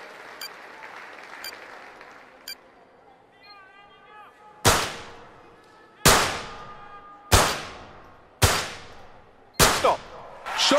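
Olympic pistol target shooting in a London 2012 video game, a rapid round of five loud, sharp gunshots spaced about a second apart, preceded by softer clicks and a short electronic beep.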